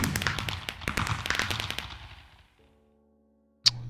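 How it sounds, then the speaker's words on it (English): Minecraft fireworks burst in a rapid crackling volley, a cluster of sharp pops that fades over about two seconds. Then comes a near-silent pause with a faint hum, and one more sharp pop. "Fireworks."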